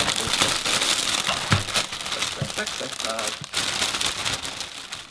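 A snack tray in plastic packaging is torn open and handled, making dense, continuous crinkling and crackling of plastic that is close and fairly loud throughout.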